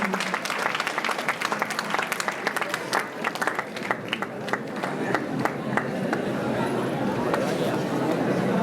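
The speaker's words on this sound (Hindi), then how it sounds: "कृपया जोरदार तालियों के साथ हमारी जुझारू और कर्मठ नेता का स्वागत कीजिए।" An audience applauds at a youth Christmas gathering in Ranchi, a loud dense burst of clapping that thins into scattered claps and crowd murmur as it fades.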